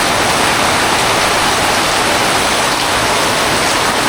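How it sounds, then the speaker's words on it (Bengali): Heavy rain pours down steadily on a house roof at night, a dense, loud and continuous hiss with no pauses or voices. "তো আজকে রাতের বেলা যেভাবে বৃষ্টি হচ্ছে"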